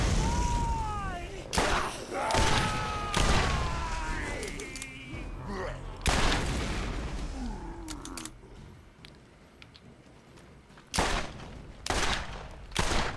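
Revolver fire and explosions in the Borderlands video game: sharp, loud gunshot bursts in clusters with booming blasts and whooshing effects between them, over a dense game soundscape.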